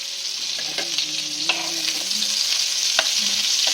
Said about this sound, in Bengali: এখানে আমি চিংড়ি মাছটা ভেজে নিচ্ছি